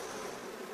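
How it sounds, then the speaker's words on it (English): A steady, dense buzz of honeybees and attacking hornets swarming close by, continuous with no pauses. "They're all fairly angry because there's lots of hornets flying around attacking them."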